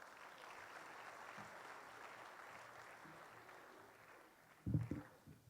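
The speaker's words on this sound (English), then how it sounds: "Let's give him a round of applause." An audience at the 14th SEIPI CEO's Forum applauds to welcome a guest of honor and speaker, a faint, steady patter of clapping that continues for several seconds before a brief louder thump near the end.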